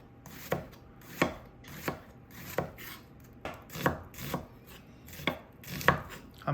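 A knife slices an onion thinly on a cutting board: about ten crisp, close taps in a steady, even rhythm, each stroke a sharp click against the board with quiet pauses between.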